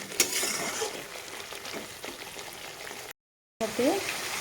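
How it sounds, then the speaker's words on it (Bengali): Pointed gourd pieces frying with spices in hot oil in a Bengali vegetarian kitchen, a steady crackling sizzle with stirring scrapes, a brief silent gap, then renewed spattering near the pan. "তো পটলের সাথে মশলা ভালোভাবে আমি কষিয়ে নেবো"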